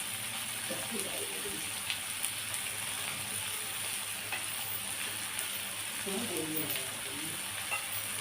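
Onion and tomato frying in a pan, a low steady sizzle with light stirring, cooked outdoors with faint voices and background noise mixed in.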